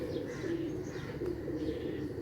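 A pigeon held in the hand coos softly and steadily up close, a low throaty murmur over faint background noise.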